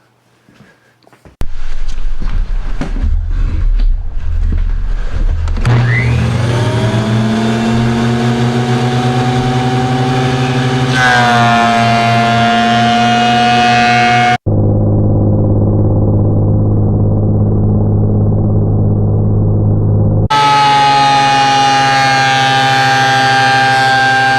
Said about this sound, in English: So the next step is to run it through the planer, get it down smooth on both sides.